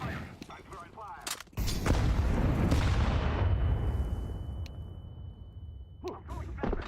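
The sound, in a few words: molotov fire thrown in video game Counter-Strike 2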